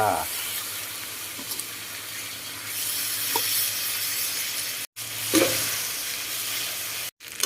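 Bitter melon with egg and glass noodles stir-fries in a wok, giving a constant close sizzle with occasional scraping of the spatula and two brief drops to silence.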